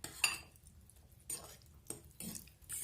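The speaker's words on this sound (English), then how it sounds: "I stir the oils together with the aloe vera to get a thick mixture." A spoon clinks and scrapes in a small bowl as oils are stirred into aloe vera gel for a hair mask, a few separate soft clinks and swishes over quiet background.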